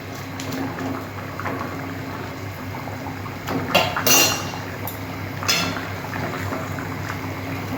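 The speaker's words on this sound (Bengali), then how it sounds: "এই ভাজা মাছগুলো আমি দিয়ে দিচ্ছি" Fried singhi fish go into a bubbling pot of curry with boiled potatoes and taro; the steady simmer is broken by a few close metallic clinks and a brief splashy surge, with no talking.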